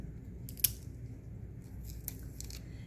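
Scotch tape being pulled and cut to seal a Petri dish shut, with two sharp snips or tears about a second and a half apart over quiet room tone.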